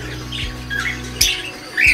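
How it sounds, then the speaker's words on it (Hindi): Birds squawk loudly in a Lahore bird shop housing cockatiels, pigeons and Aseel roosters, with several sharp calls over a steady background hum. "भाई के पास काफ़ी सारे बर्ड्स हैं, असील मुर्गे, कबूतर और बर्ड्स में कॉकटेल"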